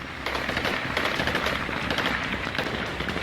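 Rapid bursts of celebratory gunfire fired into the air in Kabul, Afghanistan, crackle continuously in a dense, noisy barrage, sustained and fairly loud throughout.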